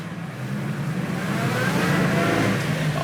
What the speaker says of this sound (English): I love that supercharger whine.